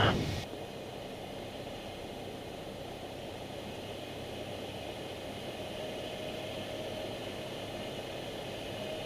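Light training aircraft engine during a simulated engine-failure practice, power pulled back to idle, giving a steady, even drone with airflow noise throughout, close and continuous, no talking.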